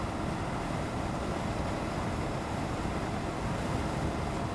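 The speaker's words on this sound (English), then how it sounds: "as you see right now, it's so windy, it's not even funny." Strong wind roaring steadily across the microphone outdoors, a dense continuous rumble with no pauses, during a first motorcycle ride wearing an AGV helmet.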